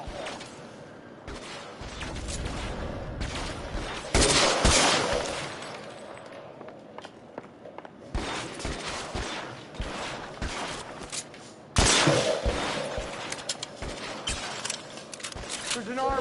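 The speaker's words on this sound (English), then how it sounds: "I hear the gunshots." Bursts of gunfire crackle amid action in the video game L.A. Noire, with loud volleys at a few points and busy noise and voices in between.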